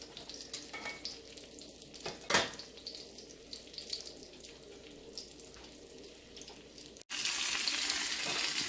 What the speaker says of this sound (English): they've been frying here for about 4 minutes